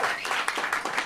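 A small group claps for a platinum-ranked player during a live podcast recording at a Paris bar, the hand claps brief, close and fairly dense, overlapping in an uneven patter.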